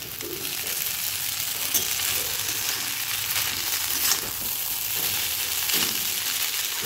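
Egg bhujia frying in a pan and being stirred, a loud, steady close sizzle with occasional scraping and clicking spatula touches throughout, no voices.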